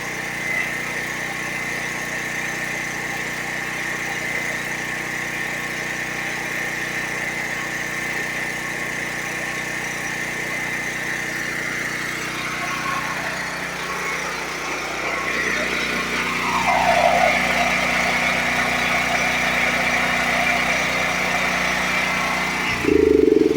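A Duromax 13000 dual fuel generator, troubled by running problems, drones steadily at close range, its engine note shifting partway through before settling into a slightly louder hum, with a thump right at the end.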